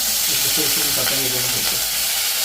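Steady loud sizzling of eggplant frying in hot oil, a continuous crackling hiss with faint stirring underneath, close up.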